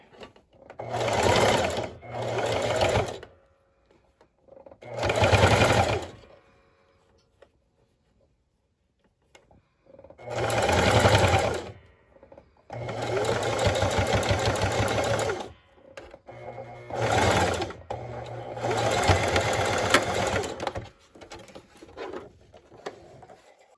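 A sewing machine stitching and backtacking a pleated emergency medical face mask, running in several short bursts of rapid stitching separated by quiet pauses, with longer runs in the second half, close and clear.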